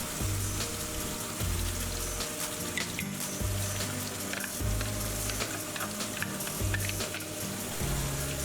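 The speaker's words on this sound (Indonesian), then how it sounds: "Setelah minyak mulai panas, baru kita masukkan bumbu yang udah kita haluskan." Ground spice paste for beef rendang sizzles in hot oil in a wok, a steady close crackling hiss with stirring scrapes, over a low repeating hum in the background.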